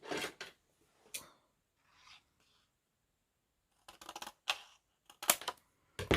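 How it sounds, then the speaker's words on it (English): Scissors snip through excess card in a card-making craft project, giving two clusters of sharp, close cutting strokes separated by a quiet pause, with no talking. "So I'm just going to trim across there using my scissors."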